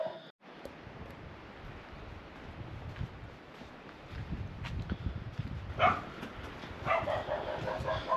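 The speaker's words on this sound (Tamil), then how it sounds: "நாய் தாங்க குலைக்குது." A dog barks a few times at a distance in a Nepali village of stone houses and apple orchards. The barks are faint against a windy outdoor background, and a short louder burst comes near the end.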